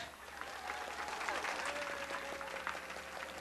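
Comedy club audience applauding in response to a stand-up comedian's call to Catholics in the crowd, steady clapping mixed with a few whoops that holds throughout.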